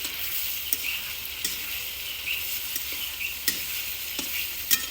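Onions and tomatoes frying in oil in a Punjabi village kitchen, a soft steady sizzle with scattered spoon clicks and scrapes against the pot.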